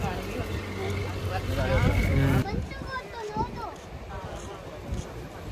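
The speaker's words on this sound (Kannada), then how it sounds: "ಮೀನು ಬತ್ತಿರ ಬೋಟ್ ಒಂಜಿ ಪೋನುಂಡು." A fishing boat's engine drones low as it passes through Malpe harbour by the sea walk, a rough motor rumble mostly under nearby people talking.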